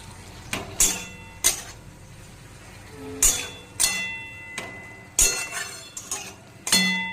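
Metal utensils clink and scrape against a pan as egg chowmein ingredients are mixed together in a home kitchen, a series of sharp, bright knocks spaced irregularly, fairly close and clear with no voices.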